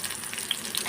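Tofu frying in a pan for bok choy tofu with garlic chili sauce, a steady close crackling sizzle with a few sharper pops, no voices.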